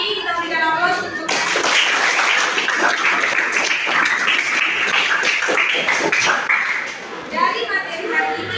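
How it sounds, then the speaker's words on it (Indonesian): A classroom of students breaks into sustained group clapping for classmates' answers, dense and loud for several seconds before fading as voices return at the end. "Kita berikan aplaus untuk"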